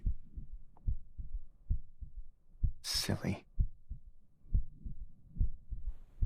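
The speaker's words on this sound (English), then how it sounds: "Are you listening to my heartbeat?" Steady heartbeat effect in the otome game Mr Love: Queen's Choice, soft low thumps pulsing in a regular rhythm throughout, briefly interrupted by a short breathy voice.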